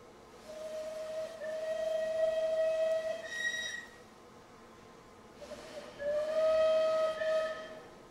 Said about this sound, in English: let's just turn the game volume up so I can hear the proper whistle that I really want